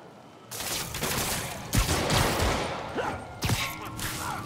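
Henchmen firing guns in Spider-Man Remastered, a sustained crackle of overlapping shots with a few sharper close cracks standing out, in a busy combat scene.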